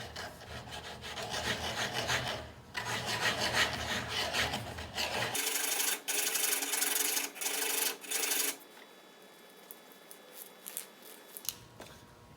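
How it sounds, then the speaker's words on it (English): A wooden dowel is sanded by hand so it fits a hole, giving close, steady rasping strokes that stop and start, then a few light taps and scrapes near the end, with no voices. "So I'm going to just sand a little bit of material until it fits in the hole."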